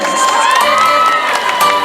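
A large concert audience at a temple festival evening in Zhongli cheers and whoops loudly, bright shouting voices and applause filling the space continuously without pause.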